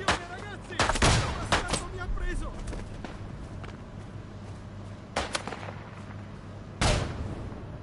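Gunfire in the WWI shooter Isonzo on the Italian front: several sharp shots early, then isolated reports near the fifth and seventh seconds over a rumbling battlefield bed, close and loud.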